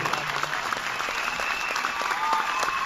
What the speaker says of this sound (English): Big applause once again, ladies and gentlemen